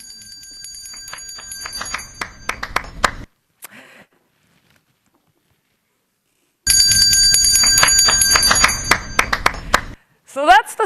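Bell ringing rapidly in a newsroom at the Christian Science Monitor, two loud bursts separated by near silence, with scattered light golf claps in the background.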